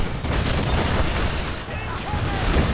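Rockets fired by mOvy in a strategy game form a dense, continuous barrage of booming blasts and crackling fire that stays loud and steady throughout.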